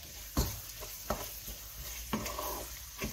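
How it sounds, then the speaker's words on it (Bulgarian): Minced meat frying dry in a pan on a hob at full heat, a continuous close sizzle broken by several sharp scraping stirs of a utensil against the pan. "Следващото, което трябва да направим е да си запържим каймата, без да добавяме вода."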